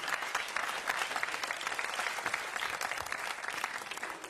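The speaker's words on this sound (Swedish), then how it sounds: "En applåd till honom" A studio audience claps steadily and continuously for a guest on a Swedish comedy news show, a dense, even wash of applause with no voices.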